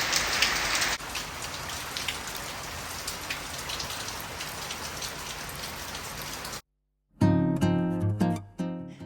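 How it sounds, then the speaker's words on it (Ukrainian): Heavy warm tropical rain pours down on Koh Samui steadily in a dense, hissing wash for several seconds, then cuts off abruptly as music begins. "Коли ми були в храмі, почалася сильна злива."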